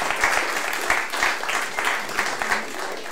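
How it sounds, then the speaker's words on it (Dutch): A lecture audience at De Balie applauds economist Mirjam van Praag, a full, rhythmic wave of many hands clapping in a steady pulsing pattern, close and continuous throughout. "Grote applaus"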